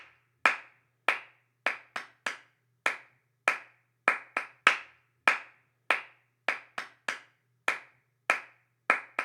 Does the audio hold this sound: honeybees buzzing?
no